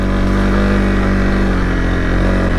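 A Honda CRF dual sport motorcycle riding out on snowy abandoned logging roads, its engine a loud, steady close drone that holds even throughout with no speech.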